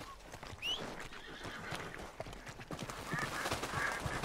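In Red Dead Redemption II, a horse whinnies with a short high cry, followed by faint hoof clip-clop and outdoor ambience, quiet and somewhat distant.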